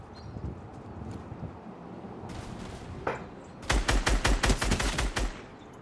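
SPAZ shotgun fire in Fortnite, a rapid burst of loud repeated shots in a steady rhythm after quieter game ambience and a couple of isolated shots.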